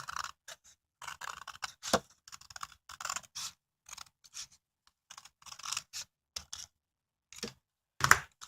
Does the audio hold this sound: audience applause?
no